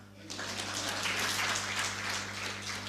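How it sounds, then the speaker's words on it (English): An audience breaks into applause at a talk, clapping starting abruptly after a short quiet lead-in and holding as a dense, even wash of many hands in a large room. "Clap for her."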